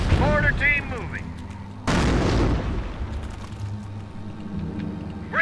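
Mortar fire in the World War II strategy game Company of Heroes: one sudden heavy boom lands partway through and decays into rumbling battle noise, with voices talking over the din.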